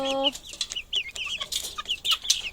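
Newly arrived baby chicks cheeping in quick, high, bright peeps, several birds overlapping close up, with a brief low hum at the start and no speech.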